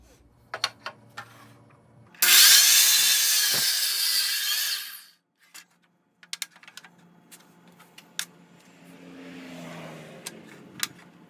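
Wood sawn to cut out ottoman parts: a loud burst of rasping power-saw cutting for about three seconds, then near silence with scattered knocks and light handling sounds as work continues.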